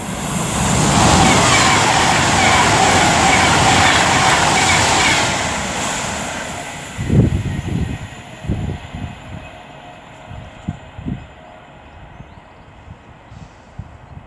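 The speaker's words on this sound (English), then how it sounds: "now approaching with 390016 for Avanti West Coast, working 1 Foxtrot 28 from London Euston to Liverpool Lime Street" An Avanti West Coast class 390 train, unit 390016, approaching Lichfield Trent Valley on the West Coast Main Line, its loud broad rush swelling and then fading into lighter rumble and rhythmic wheel clatter.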